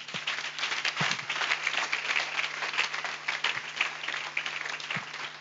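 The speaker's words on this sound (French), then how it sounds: "On peut acclamer pour Jésus." A church congregation at a night prophecy and deliverance service in Abidjan applauds, dense steady clapping from a large crowd over a constant low electrical hum, with no clear speech.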